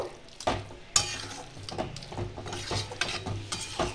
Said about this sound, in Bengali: ঘি দিয়ে একটু নাড়াচাড়া করে আমি